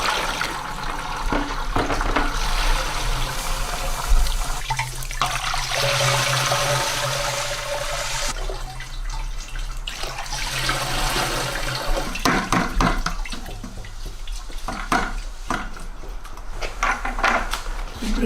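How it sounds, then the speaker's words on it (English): Homemade wine being siphoned into buckets, with liquid running and splashing steadily close by, handling knocks, and voices talking now and then over the flow. "So we gotta first siphon it into these buckets, right?"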